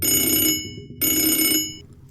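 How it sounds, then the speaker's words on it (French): A telephone bell rings in two loud, close bursts of about half a second each, separated by a short silent gap, with no voices. "Le téléphone sonne."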